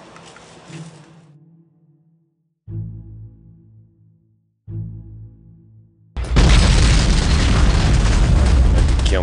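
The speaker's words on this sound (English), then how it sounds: "Explosion!" A loud explosion bursts in and roars on as a broad, sustained blast after earlier low rumbling and a pair of deep booms, on a behind-the-scenes set for a World War II mountain-troop film.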